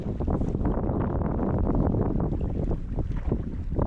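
Wind blows beside a remote trout river during a fishing trip, a loud, continuous rough roar buffeting the microphone at close range, steady for the whole stretch with no voices.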